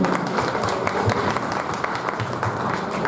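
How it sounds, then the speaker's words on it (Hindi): Steady, loud applause from a crowd of farmers at a gathering, dense clapping filling the whole stretch without pause. "एक जोरदार ताली आप सभी के साथ"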